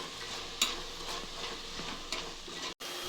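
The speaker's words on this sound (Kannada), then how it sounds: "ಪುದೀನ ಹಾಕ್ತಾಯಿದ್ದೀನಿ ಒಂದು ಹತ್ತು ಸೆಕೆಂಡ್ ಚೆನ್ನಾಗಿ ಫ್ರೈ ಮಾಡ್ತೀನಿ" Mint leaves frying with ginger garlic paste for a vegetable and mushroom biryani, a soft steady sizzle with a few sharp clicks of stirring and a brief break near the end.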